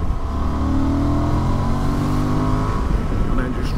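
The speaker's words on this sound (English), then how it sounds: "Quick splurt of the throttle" Honda XL750 Transalp motorcycle engine revving up hard under throttle for an overtake, a loud steady mid-pitched drone with rising harmonics, close and continuous with wind noise.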